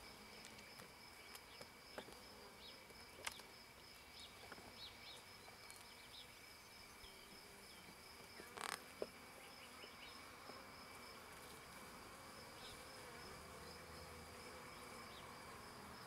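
Honey bees swarm over an opened hive, giving a faint, steady buzzing drone with scattered soft clicks and taps throughout. No one speaks.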